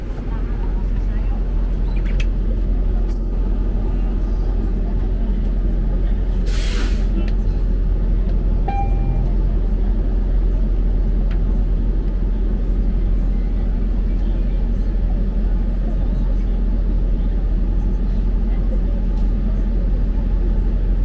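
Inside a packed moving city bus in North York, Toronto, a loud steady engine rumble and road roar continues with a brief hiss of air brakes partway through and no clear talk.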